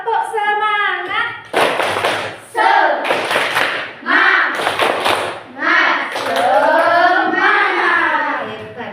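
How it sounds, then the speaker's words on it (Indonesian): A class of schoolchildren performs a rhythmic spirit clap, with bursts of unison claps alternating with chanting voices in a lively call-and-response pattern, loud and close throughout. "Yuk kita semuanya tepuk semangat."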